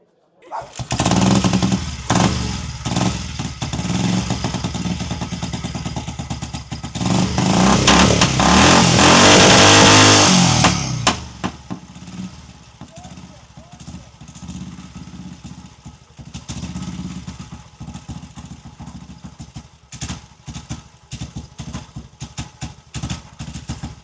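Vintage Cotton motorcycle engine at a motorcycle rally at the Folk of Gloucester Museum, loud close revving that climbs to a peak, then drops back to a rough, sputtering idle.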